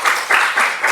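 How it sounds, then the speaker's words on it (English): Workshop audience applauds in a short, dense burst of clapping, moderately loud and steady, with no talk over it. "give a big round of applause for him"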